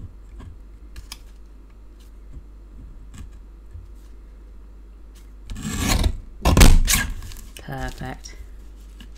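Paper scraps are trimmed for a quilt-style card, with soft snips and rustling scrapes clustered near the end, close, after quiet small ticks and one brief spoken word.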